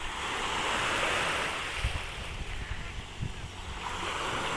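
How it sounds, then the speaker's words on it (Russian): Slightly choppy sea waves wash steadily against the shore, a continuous close roar with gusts of wind buffeting the microphone and a few heavier surges breaking through. "Послушайте шум волн. Море слегка разволновано, слегка."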